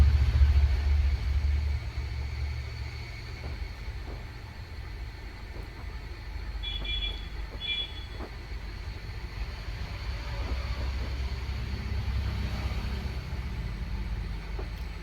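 A sewing machine runs steadily while stitching fabric for a baby dress, a continuous low motor hum and rumble with faint ticking throughout.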